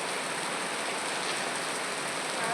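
Steady rain falling on a surface during an August day, a dense even hiss of drops that stays loud and unbroken from start to finish, with no voices over it.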